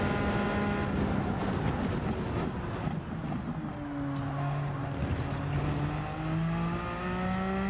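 A hypercar engine in Gran Turismo 7 drones at moderate volume, its tone climbing and settling in long sweeps as the car accelerates and shifts, with no talk over it.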